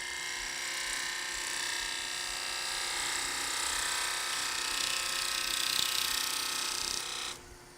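Wood lathe with a gouge making a slow cut with the handle dropped low, throwing long wispy shavings: a steady, bright, continuous hiss of cutting that holds for several seconds, then stops abruptly.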